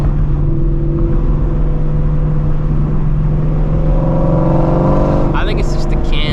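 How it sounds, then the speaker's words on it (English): Shelby GT350 engine running on E85, loud and continuous with a steady low drone and rising harmonic sweeps near the end, heard from inside the car during a drive. "it's crazy how loud this car is"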